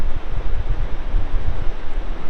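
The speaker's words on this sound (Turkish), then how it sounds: "rüzgarı duyuyor musunuz bilmiyorum" Gusty wind buffets the microphone over a low, rolling wash of sea waves, loud and close with no voices.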